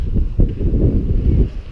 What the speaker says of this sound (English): It's a bit windy, excuse any noise.